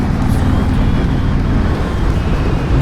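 Harley-Davidson Breakout 114 (2018) large V-twin engine cruising at about 2200 rpm in sixth gear, a steady loud low rumble heavily mixed with wind buffeting, continuous throughout with no talking.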